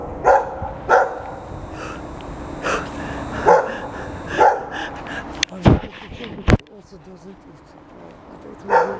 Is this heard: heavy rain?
no